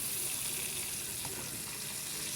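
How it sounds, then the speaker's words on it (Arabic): Boiling water pours steadily into a cooking pot holding boiled chicken thighs, a continuous close splashing hiss that runs for the whole short moment. "نحط بقى الميه مغليه"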